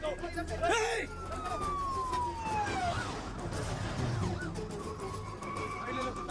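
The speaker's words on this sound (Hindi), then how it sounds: "पुलिस की गाड़ी आ रही है, जल्दी।" A police car siren wails steadily in the background under talking voices, rising and falling as it draws closer.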